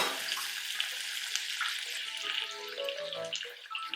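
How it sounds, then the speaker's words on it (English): Water is poured into a simmering crab masala gravy in a pan, a soft continuous splashing over sizzling, with a few light clinks, fairly faint and without talk. "I just rinsed it a bit in the paste and pouring some water in."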